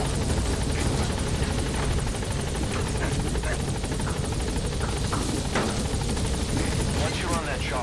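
Video game helicopter flying on a military mission, its steady rotor thrum loud and continuous throughout, with faint radio-style chatter underneath.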